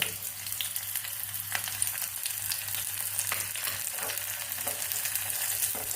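Small red shallots frying in hot ghee for tharikanji, a steady crackling sizzle with occasional stirring scrapes, close and continuous, no voices.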